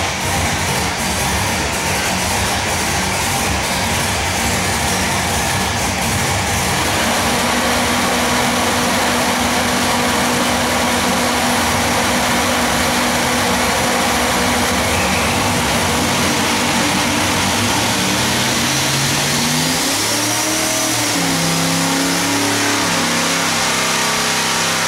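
A ProCharged big-block Chevy making over 2,000 horsepower on the F2 supercharger roars loudly through a sustained pull, its pitch climbing steadily before dropping away as the throttle closes near the end, with no voices.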